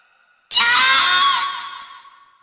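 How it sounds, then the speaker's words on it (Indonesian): A woman's shrill, piercing scream in a horror audiobook bursts out suddenly after a moment of near silence, loud and close, then holds for about a second before fading away. "Jeritannya pecah, dengan suara melengking, membuyarkan keheningan di ruangan itu."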